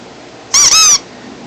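A dog squeezing a rubber squeaky toy ball gives one loud, close, high-pitched double squeak lasting about half a second, alone against a quiet room.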